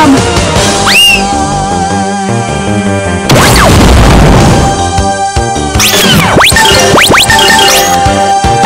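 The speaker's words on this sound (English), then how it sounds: "Goes my impact bomb!" Impact bomb going off in the game Grandia 2 on PC, a loud sustained broadband blast with crashing noise amid dense game music and sweeping magical effects, followed by more whooshing, rising spell sounds.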